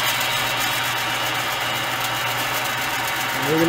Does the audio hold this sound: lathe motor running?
yes